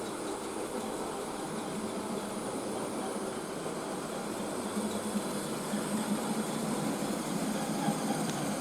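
Hornby 9F model steam locomotive, a 4mm-scale model, pulling a long goods train of some forty to fifty wagons; a steady continuous rumble and rattle of wheels rolling by, growing slightly louder toward the end.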